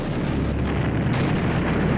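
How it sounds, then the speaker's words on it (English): World War I artillery fire, a continuous heavy rumble of distant guns firing at random on the war's last day, dense and unbroken with no voices. "This ammunition is being fired off randomly to get rid of it in an expectation of the arrival of peace"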